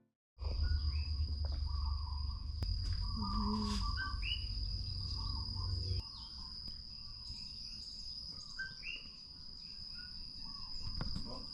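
Dawn chorus of birds and insects on Hawaii's Big Island near Kona, a constant high insect trill with scattered bird chirps and calls, moderately faint and continuous with no talk.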